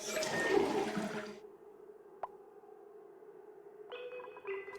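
A toilet flush in the video game Oxygen Not Included, a short rushing swirl of water that cuts off quickly and is followed by a brief click and a later mechanical hum, all heard alone without speech.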